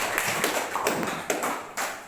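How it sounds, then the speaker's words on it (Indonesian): Students in a high school physics classroom clap for their classmates, a short burst of scattered hand claps in a room, moderately close. "Beri aplaus dulu untuk teman-teman kalian."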